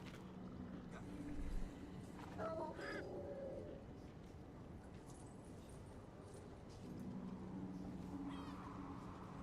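A cat meows in the video game Diablo IV, a couple of faint mewing calls set against a steady background of game ambience, with a voice speaking briefly.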